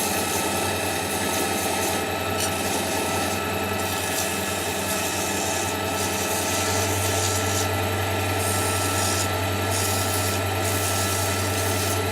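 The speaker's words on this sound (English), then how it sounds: "So let's turn the lathe on, a little bit faster than that" Woodturning lathe spinning a pen blank at moderate speed, a steady loud hum with constant motor drone throughout, slightly shifting in pitch partway as the speed rises.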